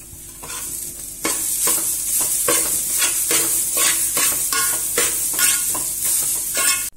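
Grated coconut roasting in a pan for Kerala-style chutney powder, with a spoon scraping through it in steady, rhythmic strokes over a soft sizzle.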